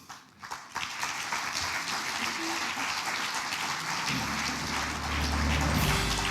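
Dense, steady applause from a dinner audience at an awards ceremony in Wroclaw as the honorees gather on stage for a group picture, swelling slightly louder toward the end with no clear speech.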